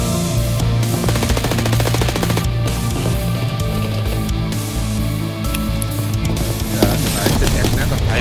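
Automatic gunfire in Escape from Tarkov during a woodland squad raid, loud sustained bursts of rapid shots rattling across the whole clip with no speech.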